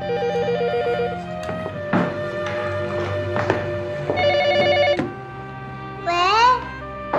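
A home telephone rings with a repeating electronic ringtone, loud and near. Bursts of tones return over several seconds with brief pauses between them, mixed with indoor background sound and a voice.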